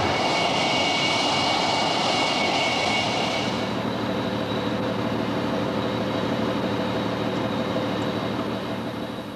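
A continuous, loud roar comes from the jet engines of an English Electric Lightning. A brighter high-pitched whine fades after a few seconds, leaving a steady, heavy rumble that carries on throughout.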